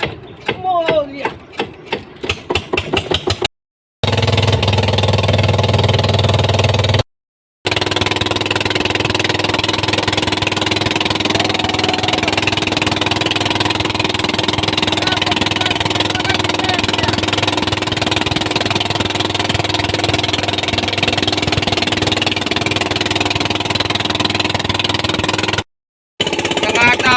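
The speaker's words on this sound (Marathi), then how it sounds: "आता होडी स्टार्ट करू" A fishing boat engine starts up and then runs steadily and loudly, a constant low drone with mechanical clatter continuing for most of the time after a short rattling start.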